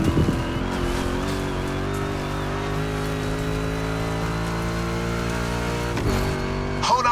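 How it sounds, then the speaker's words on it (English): A Ford Mustang muscle car tears along a muddy swamp track in The Crew Motorfest, its engine a loud, steady roaring drone throughout, with brief jolts of impact and rising revs near the end. "Make that Mustang jump like the devil is after it."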